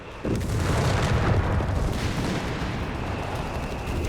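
An aircraft strafing run in the Company of Heroes 3 strategy game sweeps across the battlefield: a sudden loud burst of rapid gunfire and heavy booms that holds as a dense, sustained roar, with no voices.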